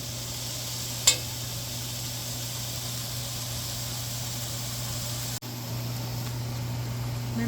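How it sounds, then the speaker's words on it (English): Mushrooms fry in a stir-fry pan with a steady, close sizzle and hiss, broken by a brief clatter near the start and a short pause about two-thirds through. "I'm going to add my mushrooms. Cook down for about the same 5 or 6 minutes."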